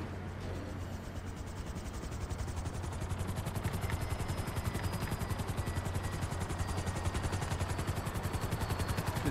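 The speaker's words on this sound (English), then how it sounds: "This helicopter is not doing healthily." A helicopter in the video game GTA Online, flying in poor condition, gives a steady rapid rotor chop that builds slightly and continues loud and close throughout, with no talk over it.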